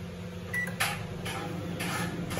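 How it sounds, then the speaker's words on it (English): A microwave oven heating a mug cake hums steadily throughout, with a faint beep and a few soft clicks and knocks over the constant drone. "Let's start to microwave it."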